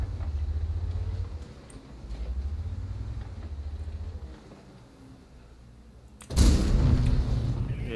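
Tank cannon firing in World of Tanks: a sudden loud blast near the end, after a stretch of rumbling engine and battle ambience, followed by a sustained roaring tail.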